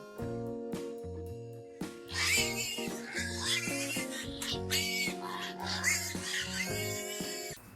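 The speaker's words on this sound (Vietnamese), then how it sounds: "pig, pig," Pig grunts and oinks in several bursts, mixed into a bouncy children's tune from an animal-sounds learning piece. The music runs throughout, and the animal noises sit on top of it.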